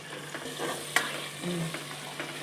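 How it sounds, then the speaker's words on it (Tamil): Ginger, garlic and onion sizzling and frying in a pan, with the scrape and clink of a spoon stirring through it; steady and close, no talking. "இஞ்சி பூண்டு கொஞ்சம் வெங்காயோடத்த கொஞ்சம் வதங்கட்டும்."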